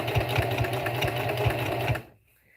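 Sewing machine running slowly with a long top stitch, attaching a pot holder to the front of a fall tote bag; a rapid rhythmic whir and needle thump, close and steady, stopping abruptly near the end.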